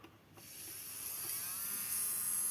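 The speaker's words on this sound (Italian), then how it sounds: "andiamo a testare ora anche la fresa" A small electric nail drill, faulty and switching on only intermittently, whirs into a steady high-pitched whine after a faint click, running close and alone.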